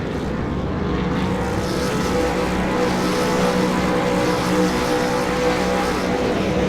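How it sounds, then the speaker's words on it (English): Race vehicles rev on the grid and pull away at the start, a loud continuous engine drone with layered roaring tones that swells slightly as they get going, with no talk. "It looks like they're about ready to start revving."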